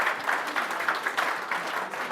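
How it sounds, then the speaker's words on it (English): The crowd at the Australian National Budgerigar Championship claps in a steady round of applause of moderate loudness, many hands together across the whole stretch. "Another round of applause."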